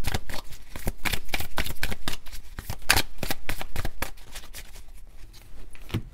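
Tarot cards shuffled for a full spread, a run of quick crisp riffling bursts and flicks, close and fairly loud, with a brief pause near the end before a final shuffle.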